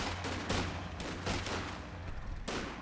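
Rifle volley fire during a 2v2 Company of Heroes 2 battle, with repeated sharp gunshot bursts cracking out at uneven intervals over steady low rumbling battlefield noise.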